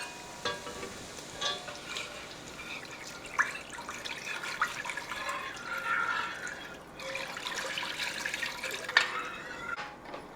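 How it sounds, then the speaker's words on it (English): Water pours into a cooking pot in a home kitchen, a faint steady splashing trickle with small clinks and drips, heard without talk. "We're going to add 4 cups of water to this."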